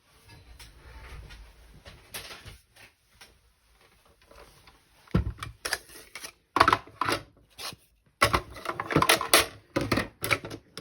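Card-making die-cutting machine pressing paper through its rollers, a series of close ratcheting clicks and rubbing crunches that grow louder and denser in the second half, no speech.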